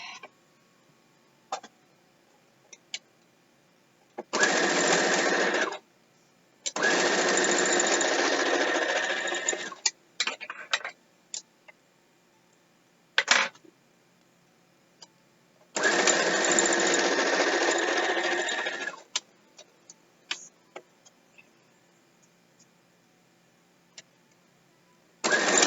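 A sewing machine stitches a queen-sized Hyrule Crest quilt in two sustained whirring runs of a few seconds each, separated by quiet gaps with small clicks and handling noises, close and fairly loud, with no talk.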